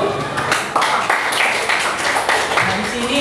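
Students in a classroom clap together in loud, uneven bursts of close-up hand claps, mixed with voices talking over them.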